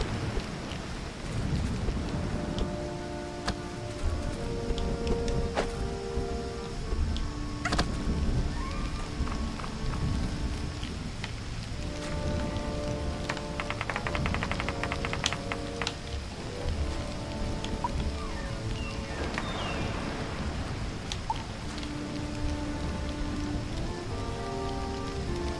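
Steady rain falls in the video game Greak: Memories of Azur, a dense continuous patter layered with melodic game music, with no talk.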